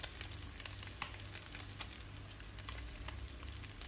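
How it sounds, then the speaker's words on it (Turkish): Bone-in beef ribs frying in a pot for a juicy meat stew, giving a close, continuous sizzle and spatter with small bursts of popping over a low background hum. "Çünkü iyice kızartıyoruz."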